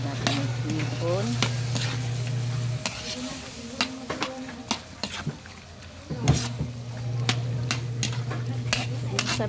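Shrimp stir-fried in a pan, a steady frying sizzle with repeated sharp scrapes and clinks of a utensil against the pan, plus a low steady hum from a range hood or burner running through much of it.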